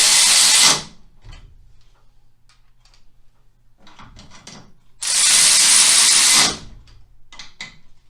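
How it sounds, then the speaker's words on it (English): A power ratchet runs down bolts on a Harley-Davidson rake kit in two loud whirring bursts, with quieter clicks and tool handling sounds between them, close up in a workshop. "Run them down with the ratchet."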